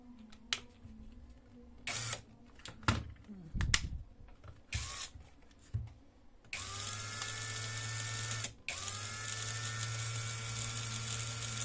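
A cordless 16V power tool runs at a low 66 RPM. There are a few short bursts of handling and clicks first, then a steady, loud motor drone continues for several seconds with a brief break near the end.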